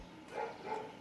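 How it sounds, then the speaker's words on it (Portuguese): A dog barks twice, faint and distant, in two short yaps roughly a third of a second apart against quiet room noise. "cachorro latindo"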